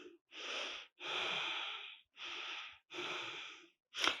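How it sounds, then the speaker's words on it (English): Slow, deliberate breaths drawn in and pushed out through the nose, four airy hissing breaths in steady rhythm with short pauses, close and quiet, ending in a sharper snort. "Keep your hands like this and take a few breaths."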